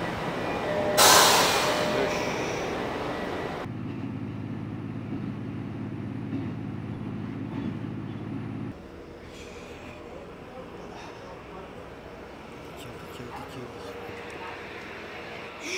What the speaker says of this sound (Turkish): Tren geldi. Ne kadar küçük bu ya.